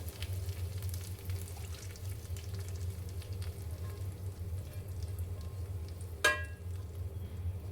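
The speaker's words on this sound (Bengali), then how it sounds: "বেশ ভালো করে একটু ব্রাউন করে ভেজে নিব।" Food browning in hot oil for khichuri, a quiet continuous sizzle with a low steady background hum and one brief sharp clink near the end.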